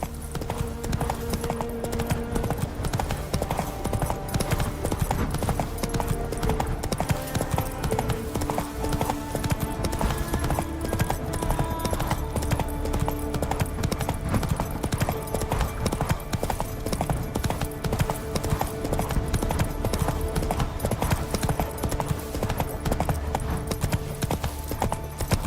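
Roach the horse gallops in The Witcher 3 with a steady, fast clip-clop of hooves that repeats continuously through the whole stretch, over game ambience with occasional horse snorts.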